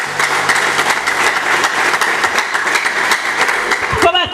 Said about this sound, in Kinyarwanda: tubaha amashyi kabisa nk'umuryango